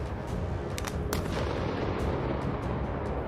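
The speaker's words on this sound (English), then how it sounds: "Powerful explosions followed, causing severe destruction." Heavy explosions from mines dropped by drones on a building in wartime, a dense continuous roar of blasts with several sharp cracks, loud and sustained throughout.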